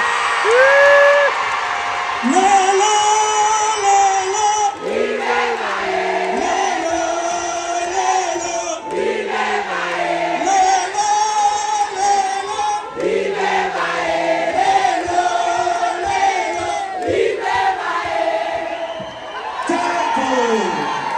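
A loud crowd whoops, shouts and cheers over music with sustained sung or instrumental tones at a live stage show in honor of a performer's entrance, a dense roar that continues for about twenty seconds.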